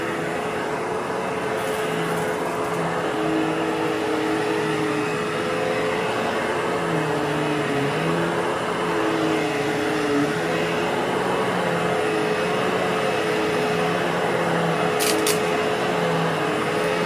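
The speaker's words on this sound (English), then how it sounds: "there's the Cirrus vacuuming, post-vacuuming after the Hoover" A Cirrus professional-grade vacuum cleaner runs steadily indoors, post-vacuuming a carpet after a Hoover Dual Power Max, a continuous loud motor whine with slight shifts in pitch and no voices.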